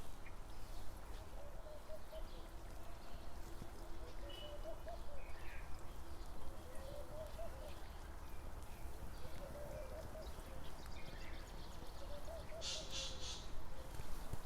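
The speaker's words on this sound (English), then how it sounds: "Hear all the birds." Faint outdoor ambience with scattered bird calls, including some duck-like quacking, over a low steady background rumble.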